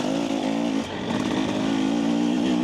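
A 2024 KTM 300 EXC two-stroke dirt bike being ridden, its engine droning steadily and loud throughout with a brief dip in the revs near the start, close and without talk.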